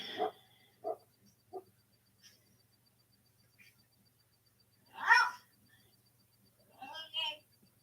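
A cat meows several times in short, scattered calls, with a louder drawn-out meow near the end, in an otherwise quiet room.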